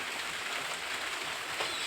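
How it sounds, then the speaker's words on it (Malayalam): Rain falls steadily in a broad, even hiss with faint patter, heard at a moderate distance and without talk. "പക്ഷെ മഴയാണ്."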